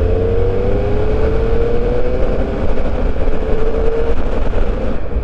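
A 2021 Triumph Speed Triple 1200 RS engine pulling wide open in fifth gear from low speed, a loud steady drone with its pitch rising gradually under heavy wind rush.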